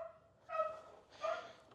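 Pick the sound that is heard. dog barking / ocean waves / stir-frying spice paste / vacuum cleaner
dog barking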